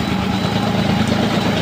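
An Eicher 485 tractor engine runs steadily while driving a fodder cutter chopping fine straw, giving a loud, continuous idling rumble close by with no break.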